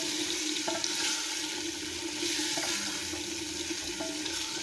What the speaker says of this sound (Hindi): और अब हम इसमें पानी डालेंगे